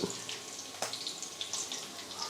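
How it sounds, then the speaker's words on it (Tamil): Water poured from a cup into a bowl of rava and curd batter for rava idli, a short close splashing trickle with a sharp clink of the cup against the bowl partway through. "ஒரு கால் கப் அளவுக்கு தண்ணி"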